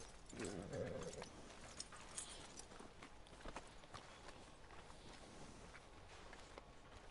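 Horse hooves clip-clop at a steady walking pace in the Red Dead Redemption 2 game world, fairly close and moderately loud, with game voices talking over the footfalls for most of the stretch.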